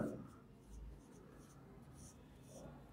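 A pencil drawn along a ruler while ruling lines in an accounting ledger gives soft scratchy strokes, faint and close, with low background noise and no talking.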